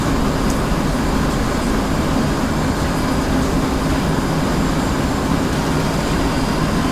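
An aircraft in the DCS flight simulator rolls down a runway for takeoff, its jet engine producing a steady, loud, broadband roar that holds evenly throughout.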